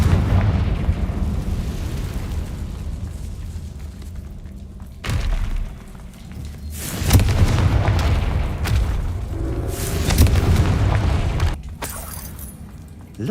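A Confringo blasting spell goes off in a Harry Potter-style video game, bursting into several booming explosions with a sharp crack around five seconds, then further heavy thumps and rumbling blasts over steady background noise.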